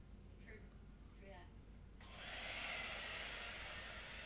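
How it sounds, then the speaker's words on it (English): A hair dryer switches on partway through with a sudden start, then blows with a steady loud whooshing hiss. Faint talking is heard before it starts. "I will be shouting over her hairdryer"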